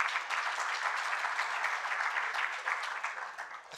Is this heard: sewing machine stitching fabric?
no